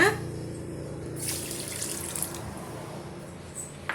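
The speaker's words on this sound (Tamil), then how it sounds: "இப்போ ஒரு கப் அளவுக்கு நம்ம தண்ணி வந்து ஆட் பண்ணிக்கலாங்க" Water splashes and streams into a pan in a steady, close pour of about a cup, for a milk powder sweet, with a brief rushing surge near the start and faint clinks toward the end.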